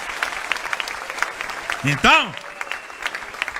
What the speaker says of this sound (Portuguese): é para dar um aplauso com força